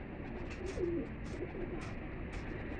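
Pigeons kept by a Lahore pigeon fancier coo softly in a single low murmuring phrase, heard faintly over a steady background hiss with distant rustling.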